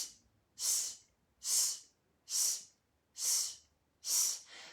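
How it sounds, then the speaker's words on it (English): Staccato out breaths in a breathing exercise: five close, evenly spaced airy exhalations, each a soft hissing puff separated by brief quiet pauses. "you can make them staccato, so breathing in and then out"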